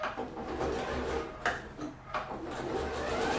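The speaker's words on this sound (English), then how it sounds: "If you want, you can sew off the end, back stitch, start at the next end, back stitch, go." A sewing machine stitching a zipper pouch runs steadily for the whole stretch, its even mechanical whirr broken by a few brief dips and clicks where the stitching pauses or pivots.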